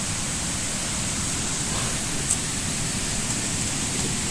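Steady broadband rushing of a flowing stream in a video game, a constant wash of water noise with no talk, even in level throughout.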